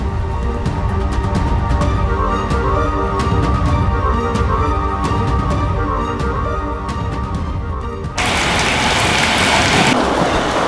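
Heavy rain pours steadily throughout, loud and close like a downpour on a roof, with low rumbling underneath; near the end the hiss brightens and intensifies into a broad, harsher wash of rain.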